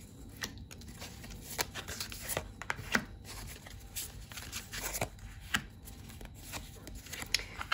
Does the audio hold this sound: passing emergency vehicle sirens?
no